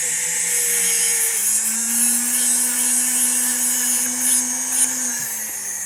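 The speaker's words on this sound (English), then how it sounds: "I'll just get a little speed, and I'm just going to sand the top of this disc just a bit." A flex shaft tool with a sanding disc whines loudly as it spins up, its pitch rising then holding steady, with a gritty hiss as the disc sands the workpiece; no talk.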